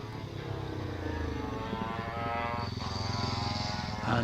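An old Velocette motorcycle labours up a hillclimb course at Wiscombe Park, a steady droning engine note with a rising pitch heard at a distance.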